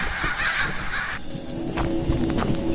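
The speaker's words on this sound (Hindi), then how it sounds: "उसके बाद वो सभी चील और कौवे बनकर फिजा में उड़ गए।" Crows cawing in a Hindi horror cartoon, harsh calls over a constant noisy background for about a second, then sparser fainter cries, with no speech.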